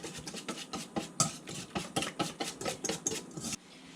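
Batter for cauliflower whisked briskly in a bowl, a fast rhythmic run of close metallic clinks and scrapes that stops abruptly near the end, with no one talking.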